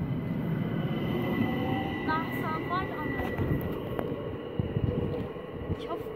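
Talent regional train pulling out of Rosenbach station, a steady rolling rumble with brief tonal squeals and hums over the middle, people talking faintly in the background.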